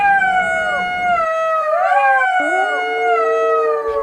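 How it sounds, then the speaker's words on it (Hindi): A jackal howls near a farm field in a loud, sustained, layered wail whose overlapping pitches rise and fall. Several voices seem to join in, with no speech. "सियार की आवाज खेत के कुछ दूरी पर रहने वाले किसान के कानों में पड़ गई"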